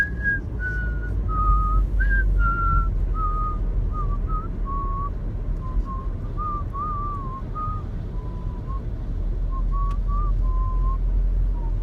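Someone whistles a wavering tune at a steady pitch over the low rumble of a car interior while driving, with short phrases and pauses continuing throughout.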